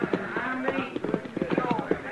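Horses' hooves clip-clop steadily in a radio drama western, riders coming up to a chuck wagon, with the rhythmic beats running under a voice talking.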